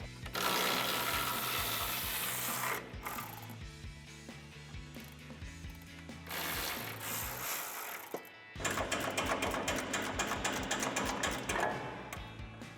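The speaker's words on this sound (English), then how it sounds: "I'm going to use a 14mm socket and a ratchet" A hand ratchet turns a 14mm socket to loosen tight control arm nuts on a Tacoma front suspension. The rapid clicking comes close and steady in bursts, with brief pauses to reset before the clicking resumes.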